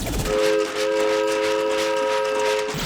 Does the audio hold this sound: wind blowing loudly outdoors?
no